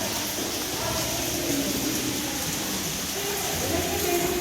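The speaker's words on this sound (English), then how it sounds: "It's raining." Rain falling outdoors near a man-made waterfall in Dahlonega, Georgia, a continuous dense hiss that stays steady throughout, with a person talking over it.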